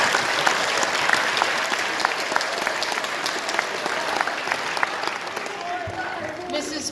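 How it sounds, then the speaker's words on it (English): Audience applause fills a school concert hall, a dense, steady clapping that holds at even loudness throughout, fairly close and without a break. "If you could help me give him a round of applause."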